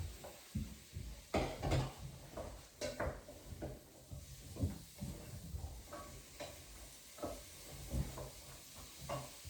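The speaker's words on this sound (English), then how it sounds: "you can hear them sizzling there" Meat for brown stew sizzles softly in a pot while a utensil scrapes and knocks against it in irregular stirring strokes.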